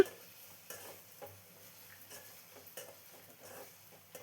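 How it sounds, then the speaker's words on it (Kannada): Avarekalu beans and fenugreek greens fry in oil, with a faint low sizzle and soft intermittent stirring scrapes, spaced about every second, close by and without talk. "ನೀಟಾಗಿ ಕಾಳು, ಸೊಪ್ಪು ಎಲ್ಲ ಎಣ್ಣೆಯಲ್ಲೇ ನೀಟಾಗಿ ಫ್ರೈ ಮಾಡ್ಕೋಬೇಕು."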